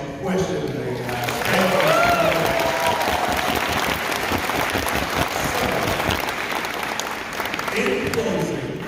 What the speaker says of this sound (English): I want a round of applause for everybody who asked a question today